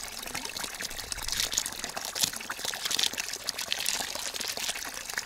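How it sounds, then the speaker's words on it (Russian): Tap water running steadily while crucian carp are scaled with a knife, a continuous hissing splash filling the whole stretch with faint scraping mixed in. "Возможно, шум воды кого-то будет напрягать, хотя это ерунда все."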